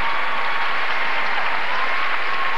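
A large arena crowd applauds figure skaters at a 1996 Legends of Figure Skating competition, a loud dense continuous roar of clapping with no break.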